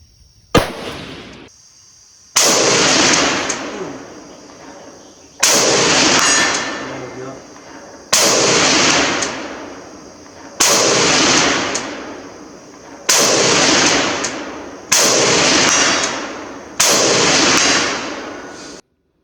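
An Imbel FAL rifle chambered in 5.56 fires seven loud, sharp shots spaced a couple of seconds apart at an outdoor range, each report ringing out and decaying before the next.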